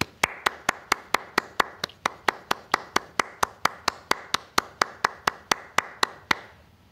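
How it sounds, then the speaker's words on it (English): Applause for the graduating class at the Delaware County Community College 2021 commencement, heard as crisp, evenly spaced claps in a steady rhythm of about four per second, close and clear, with no voices. "please join me in offering them a warm round of applause"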